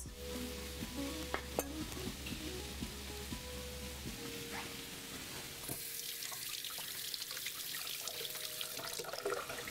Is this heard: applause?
no